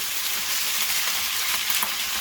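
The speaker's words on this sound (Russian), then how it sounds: "начинаем жарить курицу отдельно, без овощей" Steady, bright sizzling of chicken pieces frying in a hot paella pan, a dense crackle of oil with no voices.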